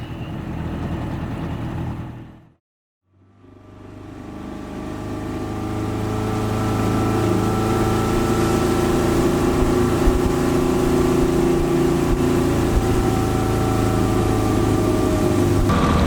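An outboard boat motor with a fault runs on a lake, sputtering, then cutting out to a brief silence before restarting and settling into a steady, close, droning hum that holds for the rest of the clip.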